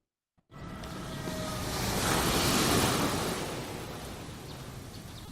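Sea waves off a beach in the Philippines at night roll in as a broad, steady wash of surf that swells and then eases. There is no speech, only some wind rumble on the microphone.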